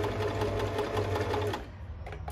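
A Singer Serenade sewing machine stitching a buttonhole runs with a fast, steady mechanical whirr and needle clatter, then stops abruptly partway through, leaving faint handling noise.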